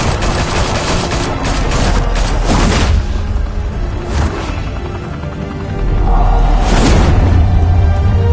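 Heavy video game gunfire in a Gotham crime setting, with dense, continuous volleys of automatic shots and loud booming bursts, all close and sustained, with no talk.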